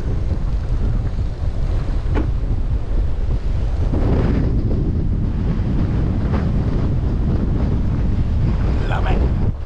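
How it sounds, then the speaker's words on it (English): Strong wind buffets the microphone on a beach beside the dunes at Cape Hatteras in the Outer Banks, a loud steady roar with gusty bursts throughout and no speech. "I'm over here behind the dunes, because out there it's just blowing hard."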